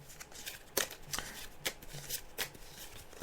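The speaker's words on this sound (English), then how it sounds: "So as you can hear, I'm just shuffling the card" Tarot cards being shuffled by hand, a run of crisp riffling bursts at an uneven rhythm, close and fairly quiet, with no speech.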